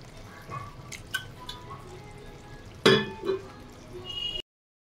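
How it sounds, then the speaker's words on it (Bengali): Water poured into a pan of simmering potol (pointed gourd) curry, giving a sharp splash and sizzle burst midway, among faint drips, clinks and soft frying in a quiet kitchen. "আর একটু জল অ্যাড করে দেবো"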